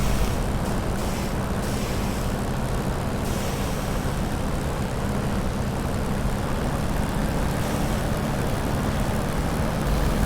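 Aircraft engine in War Thunder droning steadily and loud as the plane turns onto the runway, a continuous low rumble with airy wind-like hiss, no talking.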